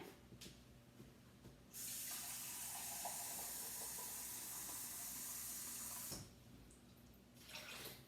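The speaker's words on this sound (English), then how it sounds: "I'm going to put 2 cups of water" Two cups of water pour steadily from a tap into a pot of beans at home, a loud continuous rushing stream lasting several seconds before cutting off, with quieter kitchen sounds around it.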